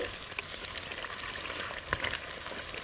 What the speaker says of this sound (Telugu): ఈ పచ్చిమిర్చిని రెండు నిమిషాలు ఇందులోనే బాగా వేయించుకోవాలండి